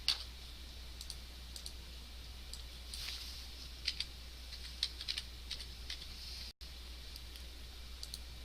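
Faint, sparse computer keyboard clicks sound over a low background hum while a scripting demo is typed, with a few isolated keystrokes and a brief dropout.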